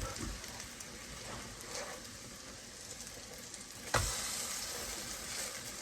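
Buttermilk pancakes, three at a time, sizzle steadily in a pan with a dense, close frying hiss, swelling briefly louder partway through.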